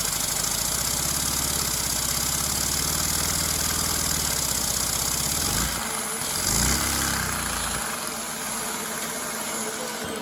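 A small engine runs steadily at a loud, even idle-to-mid pitch for several seconds, then its tone shifts and drops away as the throttle changes, with an uneven rhythm afterward.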